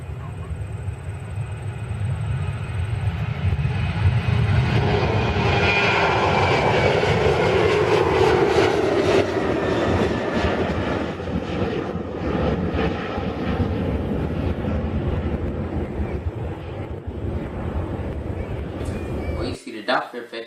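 A vehicle, likely a train or aircraft, roars past nearby with a rising then falling pitch as it approaches and recedes, loud and steady for most of the span before cutting off abruptly near the end.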